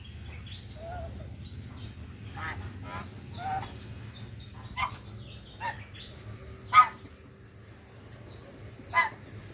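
Geese honk intermittently in short, sharp calls against a low background hum, with a few louder honks standing out near the end.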